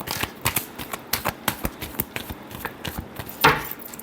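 Tarot cards being shuffled by hand, giving a rapid, close run of crisp riffling snaps and flutters at an uneven rhythm, ending in a louder final riffle.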